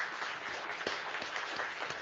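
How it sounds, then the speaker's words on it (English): An audience at a community budget forum applauding, a fairly faint, steady patter of many hands clapping that continues without a break for a couple of seconds. "So please give a round of applause for all of our interpreters too."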